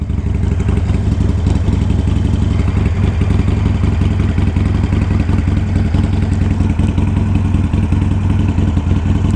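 Harley motorcycle ridden on a road on a morning in Southern California, a loud, steady, deep rumbling engine drone with wind noise that holds throughout, heard close from the rider's position, no talking.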